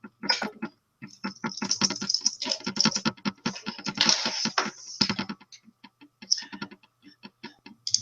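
Computer keyboard typing in bursts of quick, close clicks, busy for about five seconds and then thinning to scattered keystrokes, with no talk.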